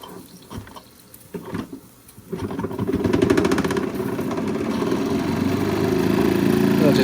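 A Wilesco D18 toy steam engine, fired by a homemade burner, starts up as its cylinders warm: a few soft knocks and hisses first, then a rising, steady, close chuffing hiss that keeps running.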